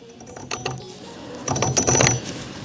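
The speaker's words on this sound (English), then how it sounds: "these Hesy bows start to lock into the back of the muzzle device" An IDG Hesy SixK suppressor mount threads onto a muzzle device and locks in, giving a run of close metallic clicks and ratcheting scrapes that cluster more densely toward the end.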